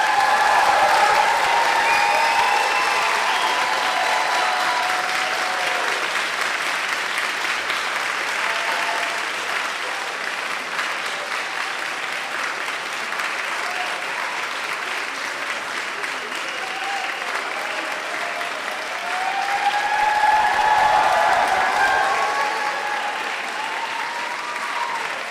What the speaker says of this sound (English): turn to your supporters and give them a big round of applause